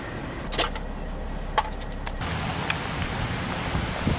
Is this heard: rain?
yes